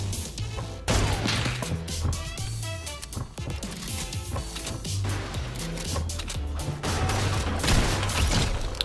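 Pre-fire gunshots in the video game Fortnite: after a short lull, rapid volleys of gunfire and sharp impacts keep cracking in dense bursts over a low musical hum, fairly close and steady.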